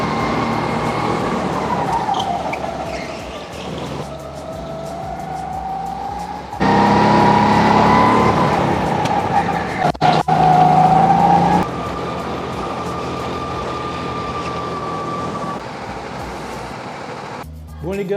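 A race car laps a track, its engine droning and sweeping up and down in pitch through gear changes, loud and continuous, with a voice talking over it.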